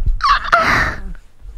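A man mimics a duck-like throat clearing, a single raspy, honking squawk about a second long, loud and close, with no talk over it.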